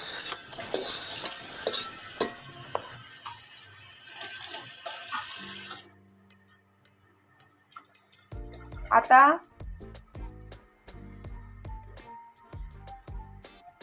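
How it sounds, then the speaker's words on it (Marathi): Nagkesar spice frying in oil over a lowered flame on a wood stove, a dense sizzle and stirring at first that cuts out abruptly, followed by a quiet stretch and then a few knocks and clatters. "आता यामध्ये टाकलेला आहे नागकेश्वर ते सुद्धा तेलामध्ये छान तळून घ्यायचं आहे"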